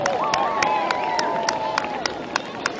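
A crowd at a football-game band show claps and cheers for the band parents and guardians, steady applause with a voice carrying over it throughout.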